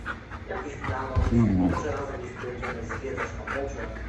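Dogs play-fighting on a TV in the background give off growls, yips and panting, fairly close and mixed with a person talking over them.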